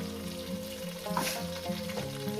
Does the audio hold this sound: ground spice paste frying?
yes